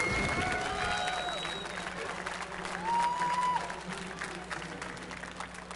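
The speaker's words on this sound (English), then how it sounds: "You heard just a little bit of cheering there." At an esports event, a crowd cheers and applauds in a brief, modest swell about halfway through, heard under steady arena noise and the faint murmur of voices.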